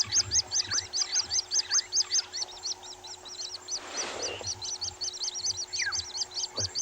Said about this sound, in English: Underrated, beautiful chorus of the doves all the time.